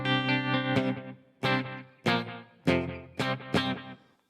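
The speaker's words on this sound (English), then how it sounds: "we got a nice slap back at 202 milliseconds" An electric guitar played through a Headrush unit with an artist preset and a roughly 200 ms slapback delay: a held chord, then four or five sharp strummed stabs, each followed by a quick echo, played alone.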